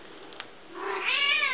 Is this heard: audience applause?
no